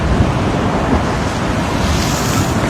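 Ocean waves crash at Waikiki, Hawaii, a loud, dense, continuous roar of surf mixed with wind buffeting, close and unbroken.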